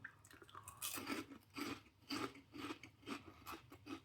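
Repeated bites into a thick, solid Swiss corn snack, a close crunchy chewing rhythm of about seven bursts over a few seconds, heard alone without talk.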